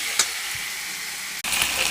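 Chicken frying in oil with ginger, a steady loud sizzle with a brief stir clatter near the start and a sharp break and scrape just before the end.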